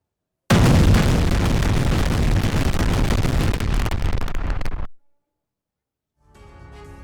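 Cluster bomb blasts in the Thailand–Cambodia border conflict make one loud, sustained rumbling roar of about four seconds that cuts off abruptly. After a short silence, a fainter noise follows.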